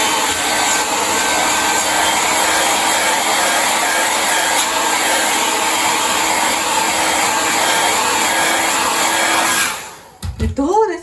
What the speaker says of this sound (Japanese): ではドライヤー使っていきます。